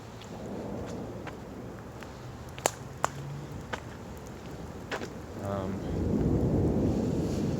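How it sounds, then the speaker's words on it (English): Thunder rolls during a storm with rain. A low rumble runs under a steady hiss, with a few sharp cracks in the middle, and the rumble swells louder toward the end. "Got some thunder going on."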